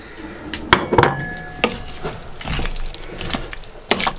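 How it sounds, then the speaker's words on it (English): A spoon scrapes and clinks against a cooking pot as meat with soy and Worcester sauce is stirred for a Lancashire hotpot, giving irregular close metallic knocks and wet shuffling sounds with no talking. "I'm going to stir this for perhaps another 10 minutes"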